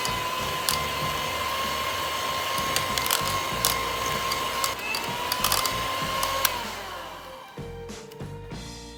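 An electric hand mixer beats pineapple tart dough with egg yolk and mashed boiled yolk, giving a steady high motor whine close by, with its pitch dropping as the load shifts and scattered clicks from the bowl.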